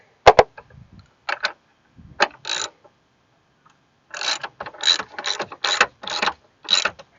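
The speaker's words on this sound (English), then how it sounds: "once we get it snug, then we'll bring the ratchet in" A ratchet wrench tightens the battery terminal bolt on a Kia Rio, giving short bursts of crisp, close clicking, several separate strokes early, then a longer run of rapid ratcheting passes with brief pauses between.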